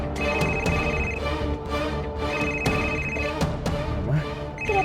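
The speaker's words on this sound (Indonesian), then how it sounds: "Kenapa nggak diangkat, Viv?" A mobile phone rings inside a car in an Indonesian drama scene, with a repeating electronic ring pattern of bright pulses, steady and moderately loud, with no talk.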